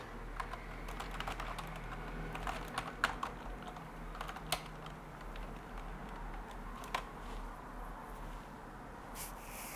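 Steady typing on a computer keyboard at an HP PA-RISC Linux workstation, with irregular clicks and occasional sharper keystrokes over a low constant hum, close and fairly quiet, with no talking.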